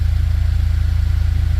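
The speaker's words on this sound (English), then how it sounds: "That's a really good idle." Honda Civic EG coupe with an all-motor engine idling, a loud, close, steady low rumble with an even pulsing rhythm and no voices.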